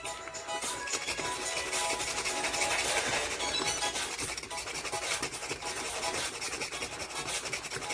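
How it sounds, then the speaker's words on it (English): Nutmeg is grated over Jamaican cornmeal porridge, giving a continuous close, dry rasping scrape that holds fairly steady throughout without speech. "I'm gonna grate some nutmeg."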